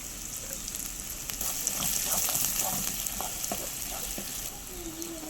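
Onions, green chilli and curry leaves sizzle steadily in hot oil for a mutton curry, a continuous close frying hiss with scattered light scrapes and clinks of stirring throughout.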